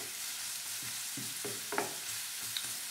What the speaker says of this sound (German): Braten wir das nochmal ein bisschen zusammen an.